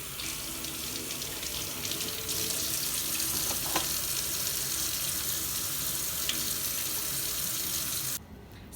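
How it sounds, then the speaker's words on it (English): Hands being washed under a running tap at a sink before a catheter procedure: a steady, even hiss of flowing water with faint splashes, cut off shortly before the end. "So I'm going to wash my hands as opposed to hand sanitize due to the potential risk of body fluid exposure."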